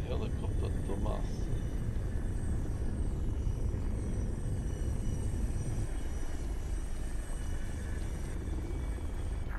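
Helicopter flying in Arma 3, a loud continuous rotor and turbine rumble with a steady whine that holds for the whole stretch, close and dominant, with people talking briefly at the start.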